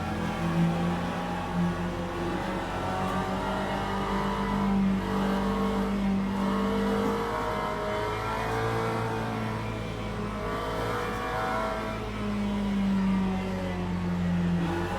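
Hypercars and GT3 race cars in a racing simulator at Le Mans, with a continuous engine drone and revs rising and falling as the car accelerates on track, heard alone without talk.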